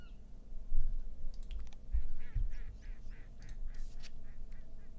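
A ruddy duck call plays in the Wingspan Oceania digital board game: a quick series of roughly eight nasal, honking notes over a low rumbling background, moderately loud and without talk.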